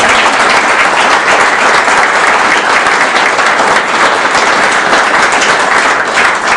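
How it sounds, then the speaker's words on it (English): Audience applause fills a city council meeting chamber, a dense, steady wash of many hands clapping at close range that holds evenly loud throughout with no pause. "I think we owe you all a congratulatory applause for helping with this project"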